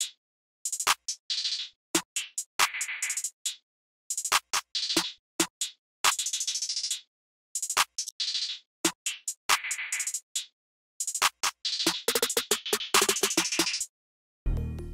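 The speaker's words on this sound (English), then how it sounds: "I rendered out the hi-hat pattern and I stretched it out so it sounds like this." A rendered hi-hat pattern from an FL Studio beat, time-stretched into choppy, glitchy bursts of bright noise with abrupt stops and gaps, ending in a denser smeared stretch; loud and isolated, no voices.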